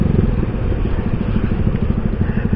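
A motorcycle idles close by with its exhaust valve closed, giving a loud, steady, throbbing burble of rapid, even low pulses with a slight clatter and no voices.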